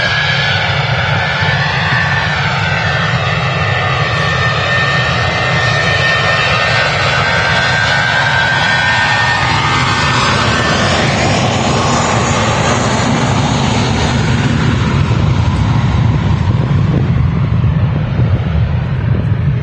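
A classic Airbus A321 departing Manchester Airport gives a loud, steady jet roar that swells and shifts in tone over about twenty seconds as the engines spool up for takeoff, with wind buffeting the microphone.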